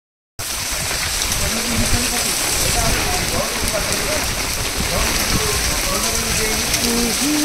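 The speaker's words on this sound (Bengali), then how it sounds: "কত বৃষ্টি দেখো, কোণার্ক মন্দিরে বৃষ্টি" Heavy rain pours down at the Konark temple, a dense, continuous hiss and patter of drops on stone, with someone talking over the steady downpour.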